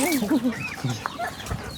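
Chickens cluck in short bursts near a farmyard, with a few overlapping calls over a light background.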